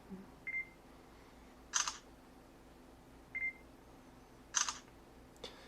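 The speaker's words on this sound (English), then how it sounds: "You get a confirmation beep and you can snap the shutter." Two rounds of a short electronic focus beep followed by a quick camera shutter click from a Samsung Captivate Glide phone, quiet and close, in near silence.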